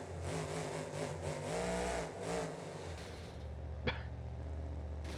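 A car in a driving game doing donuts in a stadium, its engine revving and droning steadily up close, wavering in pitch as it spins, with a short sharp knock near the end.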